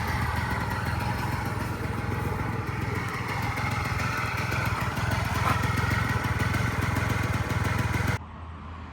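The two-stroke engine of an off-road Honda Spree scooter runs with a steady, buzzy drone, close and fairly loud for about eight seconds, then cuts to a quieter background. No one talks.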